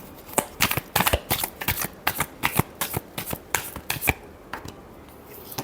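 A deck of tarot cards is shuffled by hand in a run of about a dozen quick, crisp flicking bursts in an even rhythm, close up, with the strokes thinning out toward the end.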